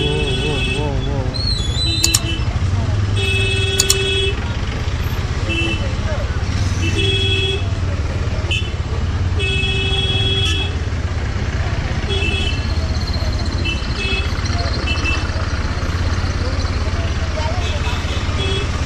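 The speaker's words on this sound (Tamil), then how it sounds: "செம்ம டிராஃபிக்காக இருக்கு" Dense road traffic in a busy Darjeeling hill town: a constant engine rumble with repeated car horn toots and honks scattered throughout, while people talk nearby.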